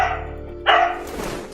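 A dog gives a single sharp bark, close and clear, after a brief quiet stretch, as if answering a simple math question.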